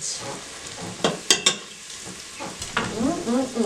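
Chopped garlic hitting a hot soup pot, giving a soft crackling sizzle with a few sharp clatters as it lands, then a steady, moderate frying hiss.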